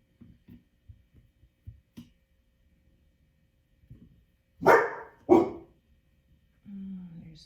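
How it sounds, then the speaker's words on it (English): Dogs bark twice, loud and fairly close, two sharp separate woofs after some soft scattered clicks and thumps, followed by a low hum. "There's the dogs."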